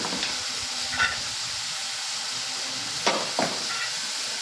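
Onions with turmeric, cumin and salt frying in a pan for a tiger prawn and potato curry, giving a steady soft sizzle with a few brief louder spatters.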